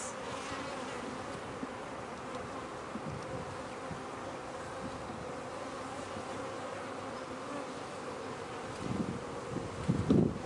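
A steady, close drone of honey bees buzzing continuously inside a sparsely populated hive, with a little shuffling noise toward the end.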